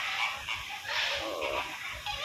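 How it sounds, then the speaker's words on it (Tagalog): A lone bird calls on a farm near Cartagena, Colombia, giving harsh, honking, fowl-like cries in a continuous run of close, fairly loud calls. "So merong ibon dito, nag-iisa."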